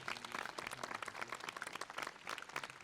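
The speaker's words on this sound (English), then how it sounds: "Let us give a big applause." A distant audience at a university Republic Day celebration breaks into steady, faint clapping that continues evenly for a few seconds.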